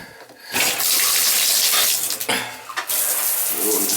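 Water gushes into a tub shower with a backing-up drain, starting abruptly and running loudly and steadily up close, with brief dips and clatters as the flow shifts.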